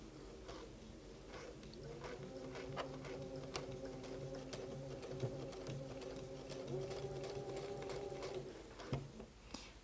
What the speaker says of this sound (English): Always controlling the fabric with the stiletto as I sew.